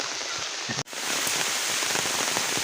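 Steady rain patters and hisses on surfaces close by, with a brief cut in the sound early on.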